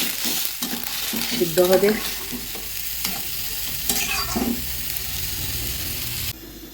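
Water is poured into a sizzling pan of fish curry with cauliflower, producing a loud frying hiss with stirring and bubbling, as a voice speaks briefly.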